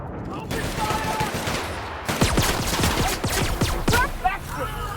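Rapid bursts of gunfire ring out in a combat scene of the video game The Outer Worlds, dense volleys of sharp shots overlapping one another, with in-game voices shouting beneath the shooting.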